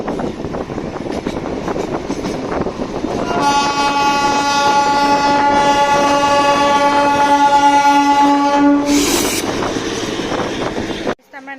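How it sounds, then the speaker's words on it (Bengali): A toy train sounds a long, loud, steady multi-tone horn for several seconds over the rumble of passing rail cars, with people talking nearby before and around it. "আমরা আবার টয় ট্রেন দেখতে পেলাম এখন"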